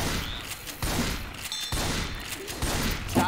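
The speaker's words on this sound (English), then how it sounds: "Stop shooting each other." Rapid gunfire bursts in the zombie shooter Left 4 Dead, loud and close with brief pauses between volleys, under a dense game soundscape.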